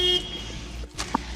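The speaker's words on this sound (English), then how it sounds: "You don't need to honk like many times" A car horn gives a short, bright toot at the very start, then fades into the low hum of the car and nearby traffic, with a faint brief sound near the end.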